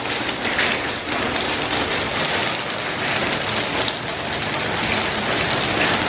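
Steady rain pattering densely on a hard surface, a continuous loud hiss of drops with no pauses and no talking.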